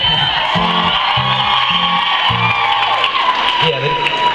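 A live concert audience at a show cheers and whoops as one steady, loud crowd roar that fills the whole stretch, with voices rising and falling within it.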